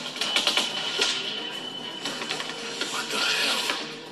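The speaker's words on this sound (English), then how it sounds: "They sound like a light machine gun of some kind, not a rifle" Light machine gun fire in The Walking Dead video game rattles in a steady, fast mechanical chatter, fairly loud and continuous, with occasional sharper cracks over the stream.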